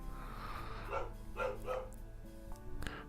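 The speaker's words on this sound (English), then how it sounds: "The dog's going crazy." A dog barks in the background, a few faint, quick barks heard at a distance under a low steady room hum, with no one talking.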